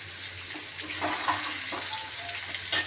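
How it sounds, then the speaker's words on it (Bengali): Boiled potatoes frying with salt and turmeric, giving a moderate, steady sizzle with a few soft stirring sounds and a brief louder clatter near the end. "নুন হলুদ দিয়ে আলুটা আগে আমি ভেজে নেব"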